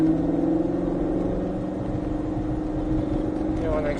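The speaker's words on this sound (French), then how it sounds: "On accélère, tu peux le doubler." A 2021 Ford Mustang GT500 accelerating on the Folembray race circuit, its engine a loud, steady drone from inside the car, with a coach's voice talking over it throughout.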